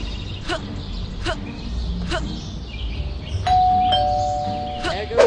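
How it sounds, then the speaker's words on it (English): Doorbell rings repeatedly in the Scary Teacher 3D video game, a series of short chimes spaced about a second apart over a steady background, followed by a longer sustained electronic tone. "There goes that stupid bell again."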